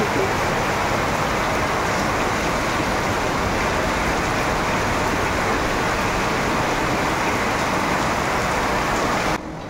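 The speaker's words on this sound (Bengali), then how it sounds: "ভালো বৃষ্টি হয়েছে।" Steady heavy rain pours down continuously, a dense broadband hiss close by with no voices, cutting off abruptly at the very end.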